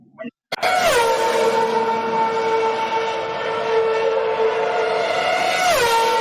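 A Formula One race car engine screams as a loud, sustained, high-pitched whine, holding steady for several seconds before its pitch drops sharply near the end.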